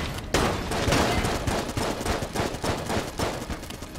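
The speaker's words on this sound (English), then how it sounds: "Just keep shooting in that general direction" Rapid video-game gunfire in Enter the Gungeon, a dense stream of overlapping shots and bursts that runs steadily after a brief opening gap, loud and close with no voices.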